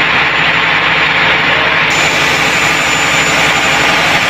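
Inside the engine room of the Srinagar 8 passenger launch, a loud, steady engine roar fills the space, a dense, unbroken mechanical drone with a faint high whine joining partway through.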